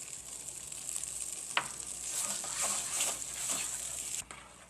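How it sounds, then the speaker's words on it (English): Batter with Worcestershire sauce and eggs being mixed by hand, a wet, squelching stir with soft sloshing strokes and a sharp clink, fairly close and quiet with no voice over it. "We're gonna mix this in real well."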